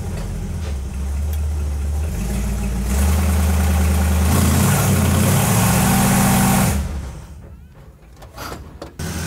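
A Chevrolet C10 truck engine runs steadily, then rises in a loud, sustained drone as it is put in gear and loaded, before dropping away to quieter idling with some clatter near the end.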